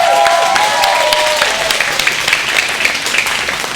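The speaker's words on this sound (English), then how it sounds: "Give her one more round of applause." Audience applause at a youth night wrestling show, a dense steady clapping crowd with a few whistles and shouts near the start, fairly loud and continuous throughout.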